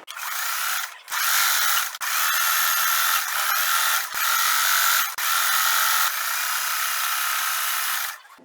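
Domestic sewing machine stitching around a button panel on upcycled shirt fabric for a tote bag, a loud steady mechanical whir running in long bursts with brief pauses between seams, no talking.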